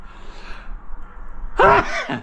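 A single loud, sharp sneeze bursts out near the end, after a stretch of quiet outdoor air on a windy day during DIY waterproofing work.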